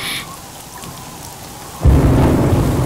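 Rain falls steadily in a storm, then a loud rumble of thunder breaks in and rolls on to the end.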